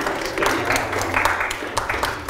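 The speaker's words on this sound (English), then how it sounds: "Round of applause" A small crowd applauding and clapping at an archaeological excavation after a 1901 time capsule is found, a brief burst of scattered, moderately loud clapping with faint voices mixed in.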